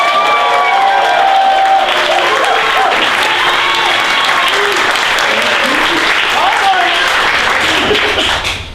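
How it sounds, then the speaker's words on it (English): A loud, close audience at an improv comedy show applauds and cheers continuously, dense clapping mixed with whoops and voices that stays strong before tapering at the very end. "a round of applause for Sean Chu."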